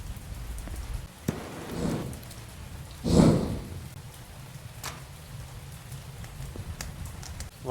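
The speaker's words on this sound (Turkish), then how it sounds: "oyunda da yağmurun azizliğine uğradık resmen" Steady rain falls in the car-building game Mon Bazou, a continuous soft patter with a few louder gusty swells, heard alone without talk.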